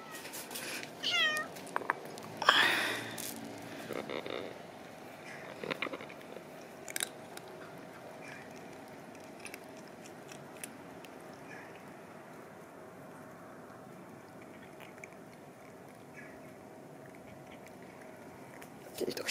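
A cat eating dry kibble: quiet crunching and biting in short clusters, with a couple of brief meows early on, then fainter chewing and long near-silent stretches.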